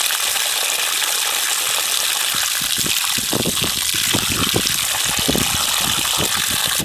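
Water gushes steadily onto a newly planted tomato to soak its roots, a loud continuous splashing pour up close that runs the whole time.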